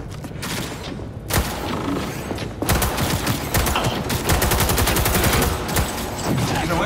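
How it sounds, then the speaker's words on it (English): Rapid video-game gunfire from Cyberpunk 2077 during a final boss fight against Adam Smasher, loud and close, with dense bursts of shots after a brief lull and a mechanical clatter, and no talking. "Wait, I need a better gun. This time a gun would work."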